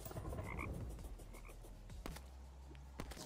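Frogs croak repeatedly in the Terraria Calamity Mod video game, loud low guttural calls close by, mixed with game sound effects and a few sharp clicks, no voices.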